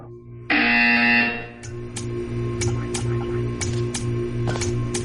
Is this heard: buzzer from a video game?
yes